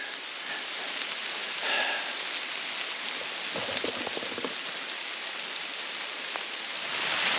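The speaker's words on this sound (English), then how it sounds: "Unexpected rain." Heavy, unexpected rain pours down outdoors in a dense, steady hiss that stays even throughout, with faint spatters on surfaces nearby.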